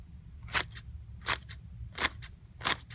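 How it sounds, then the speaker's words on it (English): Long library shears slice through paper in four crisp, evenly spaced cuts, each a sharp double snip of the blades closing, close up in a quiet room. "beautiful scissors. Great for cutting like coupons or pages out of articles out of paper or books"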